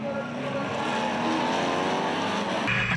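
NASCAR Euro stock cars race at Monza in tricky conditions, a dense, continuous roar of several engines close by with steady droning harmonics, ending in a quick shift in pitch as a car passes.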